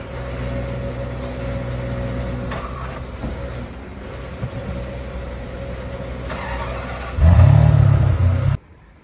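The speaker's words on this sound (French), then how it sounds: "Alors là je vous présente une Aston Martin DBS." An Aston Martin DBS engine idles with a steady low rumble and swells into a louder, deeper burst near the end before cutting off abruptly; no talking over it.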